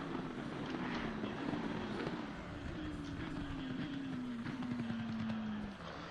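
GT3 race cars circle the track in Assetto Corsa Competizione, a faint distant engine drone whose pitch slowly falls as cars pass, steady and low under wind-like noise.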